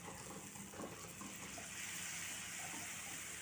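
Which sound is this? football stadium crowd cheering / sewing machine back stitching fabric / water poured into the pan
water poured into the pan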